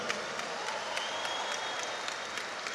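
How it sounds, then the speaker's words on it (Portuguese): Steady applause from a conference crowd honoring a pastor and translator, fairly soft and continuous with a few sharper claps standing out. "Forte aplauso para o pastor Felipe Parente"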